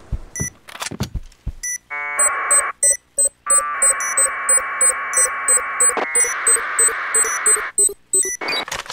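Planted bomb in the game Point Blank beeping loudly and steadily as a run of repeated electronic tones, broken by long sustained alarm-like buzzes.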